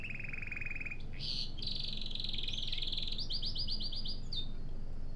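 Birds chirping in the video game Heavy Rain, a steady run of bright repeated tweets and trills close by over a low ambient hiss, with no talking.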